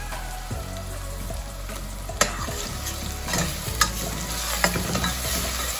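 Onions sautéing in a pan for chana masala give a steady close sizzle, with a few sharp clacks of a spoon stirring against the metal now and then; no voices.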